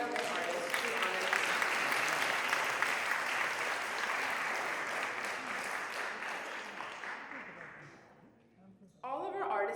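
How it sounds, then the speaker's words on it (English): An audience at a dance recital applauds a young violinist with dense, sustained clapping that tapers off near the end, followed by a voice starting to talk. "Please join me in applauding our young violin artist, Sri Anand"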